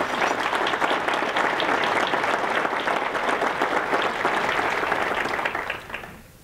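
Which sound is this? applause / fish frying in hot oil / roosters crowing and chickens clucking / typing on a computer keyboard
applause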